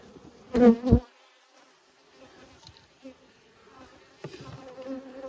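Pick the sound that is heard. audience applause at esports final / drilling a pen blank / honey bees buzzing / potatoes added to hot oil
honey bees buzzing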